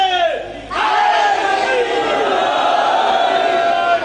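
A large crowd loudly chants slogans together at a Shia religious gathering, many voices rising in unison after a brief lull and holding a steady, sustained roar throughout.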